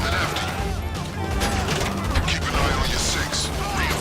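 Rapid bursts of gunfire and crashing impacts during a GTA 5 Online heist, dense and continuous under excited voices talking over the action.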